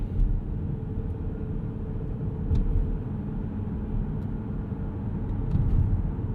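A 2025 Mazda CX-50 Hybrid Premium Plus on a city commute, its Toyota-sourced engine starting up and leaving EV mode: a steady low rumble of engine and road noise inside the cabin, holding even throughout with a slight swell near the end.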